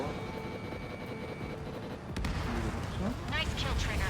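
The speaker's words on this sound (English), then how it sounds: "Missile launched" In Ace Combat 7, a fighter jet's engine roars steadily before a missile fires with a sharp burst, followed by a swelling rumbling blast and more roar while game radio voices talk.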